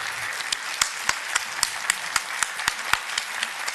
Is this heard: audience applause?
yes